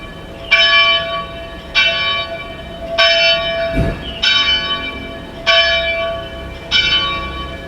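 A church bell rings the Angelus, six loud, evenly spaced strokes about a second and a quarter apart, each ringing on with a long, shimmering decay, heard alone with no voices.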